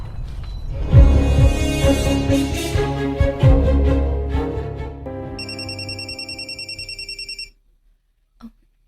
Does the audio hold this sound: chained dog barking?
no